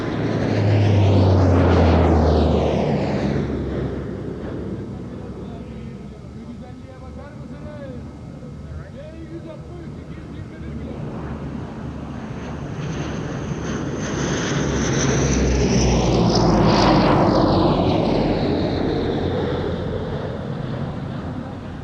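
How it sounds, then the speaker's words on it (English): A CASA CN-235 and a Turkish Stars–marked C-160 Transall turboprop transport fly past at an airshow, engine drone swelling near, fading, then building into a second loud pass, with wind noise and voices in the background. "Casa CN-235 is followed in by the Turkish Stars marked C-160 Transal."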